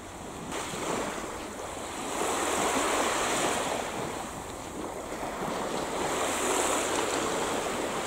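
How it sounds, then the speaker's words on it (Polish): Sea waves on the Polish seashore wash in as a steady, broad roar that swells and eases, with wind buffeting the microphone throughout and no voices. "Morze, nasze polskie morze."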